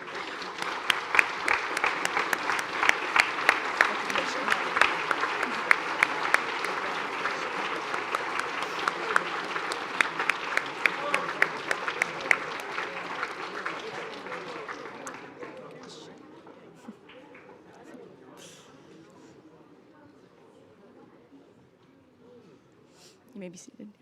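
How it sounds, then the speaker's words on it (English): Applause for veterans at a high school Veterans Day assembly, dense and sustained from a large crowd for about fifteen seconds, then thinning to scattered claps and quiet shuffling. "can we all give them a recognition and applause for them"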